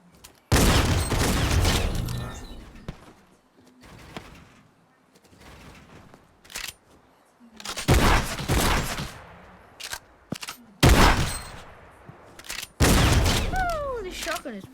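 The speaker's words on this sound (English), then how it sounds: "Oh, this shotgun is brilliant." Shotgun blasts from a video game on a creative map, several loud booming reports in uneven bursts, separated by quieter gaps with faint background game noise.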